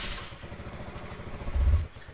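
A Yamaha Mio Sporty scooter, fitted with a new maintenance-free battery, starts and runs with a steady, close pulsing engine note that briefly swells louder near the end.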